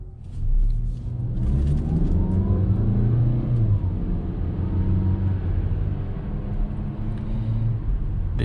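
A 2021 Mazda CX-5 Grand Touring with the 2.5-litre engine accelerates hard, its loud, steady engine roar and rising rumble heard from inside the cabin, with no talking.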